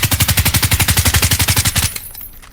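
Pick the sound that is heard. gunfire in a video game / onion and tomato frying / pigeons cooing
gunfire in a video game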